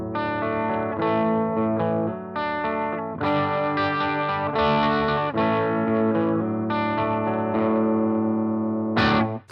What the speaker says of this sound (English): So before we kick the ENGL on, here is the clean tone of the amp.